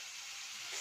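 Ginger garlic paste sizzles in a hot frying pan for a mutton kheema samosa filling, a steady, faint hiss of frying with no talking.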